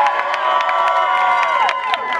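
A protest crowd at Occupy Los Angeles cheers and whoops loudly and continuously, many voices shouting together at close range.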